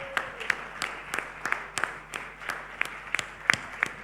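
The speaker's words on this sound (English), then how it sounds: "a bigger round of applause, please" Sparse, scattered claps from a small audience at a corporate awards ceremony after a Best Client Servicing Team of the Year win, irregular individual hand claps spread over a few seconds, fairly quiet in a hall.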